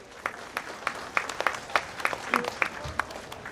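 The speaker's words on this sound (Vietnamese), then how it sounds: "Xin quý vị cho một tràng vỗ tay quý vị." Audience applause at a Vietnamese music concert after a guitarist and singer is introduced, heard as scattered individual claps with sharp separate hits rather than a dense roar, moderately faint and steady for a few seconds.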